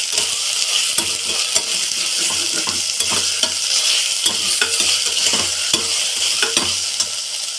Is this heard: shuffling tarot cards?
no